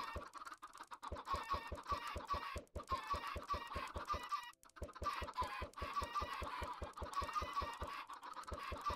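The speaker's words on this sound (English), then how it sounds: "That is actually quite a bit of chickens." Chickens in the Minecraft video game cluck in a dense, steady run of repeated short calls, loud and continuous with only brief pauses, with no talking over them.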